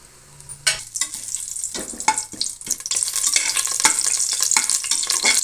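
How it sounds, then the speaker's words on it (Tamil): Bay leaves crackle and sizzle in hot oil, a sudden burst followed by steady frying hiss with scattered pops, close and fairly loud. "இப்போ நம்ம தாளிக்கிறதுக்கு முதல்ல இந்த இலை பிரிஞ்ச் இலையெல்லாம் கொட்டிடலாம்"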